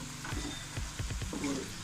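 Kaalan curry bubbles and sizzles in a pan, a close, uneven patter of small pops without talking.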